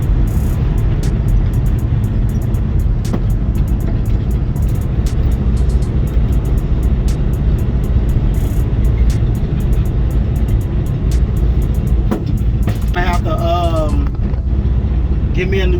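A 1972 Dodge D100 pickup drives along the street with steady engine rumble and heavy wind buffeting on the microphone throughout, and voices talk over the noise.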